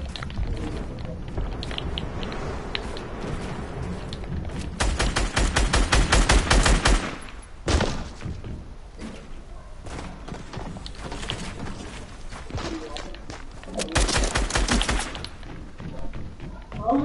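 Rapid bursts of video game gunfire crackle between steady background noise, with a loud sustained volley midway and another burst near the end, while players talk over it.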